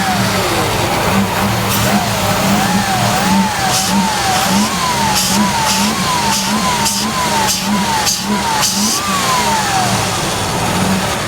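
A Range Rover Classic engine is revved up and down repeatedly in a rising and falling rhythm over a loud, close running engine, with a faint voice in the background.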